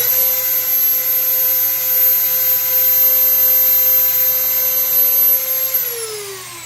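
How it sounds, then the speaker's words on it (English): A steady, loud motor whine with high harmonics runs unbroken while a 3mm brass rod is sanded with 400 grit sandpaper as it spins, the pitch dropping slightly as the machine slows near the end. "A little bit of 400 grit sandpaper, and that sands it right down."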